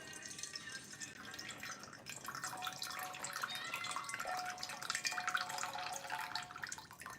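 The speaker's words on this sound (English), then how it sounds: "I'm going to pour it out." Tea poured out in a steady, faint trickling stream with light dripping and splashing, continuous for several seconds.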